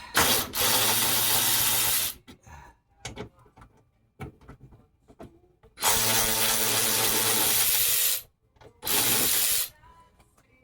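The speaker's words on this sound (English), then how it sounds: "Then I have a couple of bolts up here. I need to take those out." A power tool removes bolts from the window regulator motor of a 2009 Nissan Xterra in three loud sustained bursts of a few seconds each, separated by quieter clanks and handling noise.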